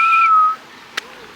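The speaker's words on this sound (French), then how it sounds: "Il y a un piaf, il fait le même sifflement que Kiki quand il fait tchatcher." A wild bird in Panama gives a clear, steady whistle, first a pair of high sustained tones, then a single long note fading out after about half a second, close and alone, followed by a brief faint click.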